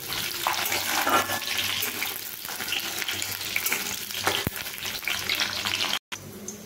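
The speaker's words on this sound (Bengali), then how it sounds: "আমি এইভাবে নেড়ে নিচ্ছি।" Raisins and a green chili fry in a pan while being stirred, a steady loud sizzle with scraping stirs and a few knocks, ending in a brief dropout.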